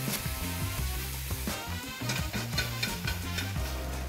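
Coriander sizzles and crackles in a hot pan for a spicy homemade sauce, a steady frying hiss with scattered pops and light clatter, close and alone.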